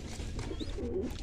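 Pigeons coo softly in the breeding section of a pigeon loft, low murmuring calls under steady background noise.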